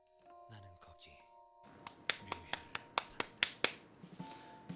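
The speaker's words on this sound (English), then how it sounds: "I did a very quiet clap." A brief spoken phrase, then a run of about ten soft, sharp hand claps or snaps at a steady pace, close and quiet.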